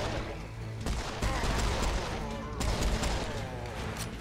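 Gunfire in the Serious Sam: Siberian Mayhem video game, rapid bursts of shots and explosions over a dense game soundscape.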